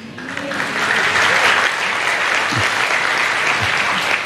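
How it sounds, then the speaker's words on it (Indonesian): Church audience claps through a sermon, a steady, dense wash of applause filling the room at full volume with a faint voice underneath. "Tumben lo tepuk tangan."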